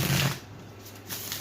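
A quick riffle of tarot cards being shuffled, one brief burst of flapping followed by a softer shuffle.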